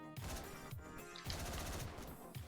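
Rapid video game gunshots from Hotline Miami, a dense run of punchy blasts in quick succession that sound like shotgun fire, steady and fairly quiet with no talking.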